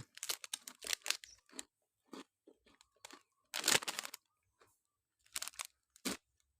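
Cookies being crunched and chewed close up, in bursts of crisp bites with short pauses between them, and no talking.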